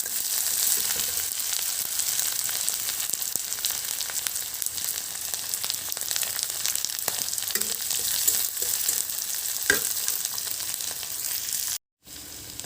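Garlic, ginger and chili sizzle and crackle steadily in hot oil for a jackfruit seed curry, with occasional scraping stirs, close and continuous, broken by a brief silence near the end.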